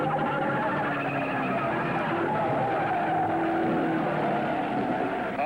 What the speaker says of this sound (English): And Jim McElreath and Bobby Marshman spin in the pits.